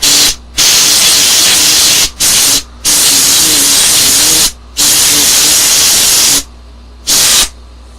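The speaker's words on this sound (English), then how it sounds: "normally you would turn off your computer for using compressed air" Compressed air sprays in loud, close hissing bursts to clean a computer's dust filter, several blasts of about one to two seconds each, separated by short pauses, with a low fan hum running underneath.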